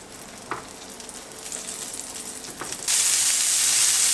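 Meatballs fry in avocado oil in a pan, starting as a gentle sizzle with a couple of sharp pops, then jumping to a loud, dense hiss near the end.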